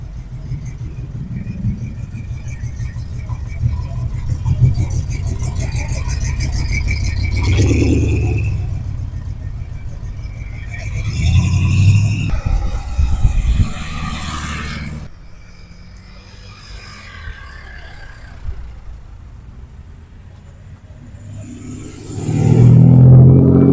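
A car engine at a large E.Leclerc store rumbles and revs in uneven surges, loud and close, with louder bursts near the middle and at the end.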